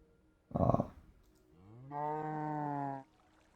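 In the video game Minecraft, a cow gives a short rough grunt followed by a longer, tonal moo, both close and distinct against near silence.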